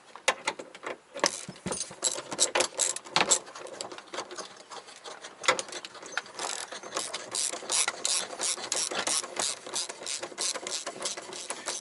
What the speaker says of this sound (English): So the extra added tool you're going to need is a 17 mil and a ratchet.